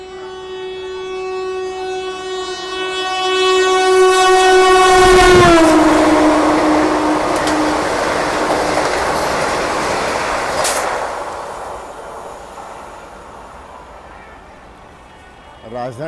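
A train overtakes at a railway station near Firozabad, close to Agra: a loud, sustained horn blast drops in pitch as it passes, followed by roaring, rumbling wheels that fade over several seconds before a brief knock at the end.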